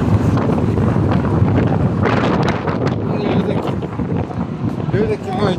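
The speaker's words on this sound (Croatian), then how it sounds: "Jer je počeo jaki vjetar puhat" Strong wind buffets the microphone outdoors on a hill, a loud continuous roaring rush with gusting surges throughout.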